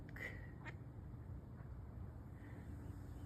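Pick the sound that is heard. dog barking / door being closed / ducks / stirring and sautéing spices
ducks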